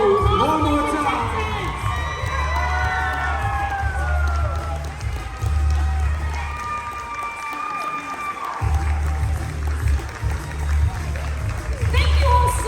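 Anime convention cosplay contest audience cheering, whooping and applauding for all the contestants, a steady loud crowd roar with excited high voices over thumping music throughout.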